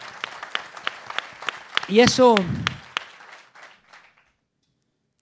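A crowd claps in scattered rhythmic bursts while someone speaks briefly over it; the applause thins out and fades to silence.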